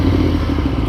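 A motorcycle engine passes close by in a brief, loud burst of rough roaring and clatter.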